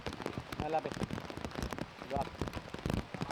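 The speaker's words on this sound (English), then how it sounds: "We hear the rains coming down now heavily." Heavy rain pours down on an outdoor disc golf course, a dense, steady hiss of drops striking the ground with scattered sharper spatters, while a commentator talks over it.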